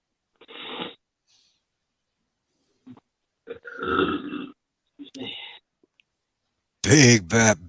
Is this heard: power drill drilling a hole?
no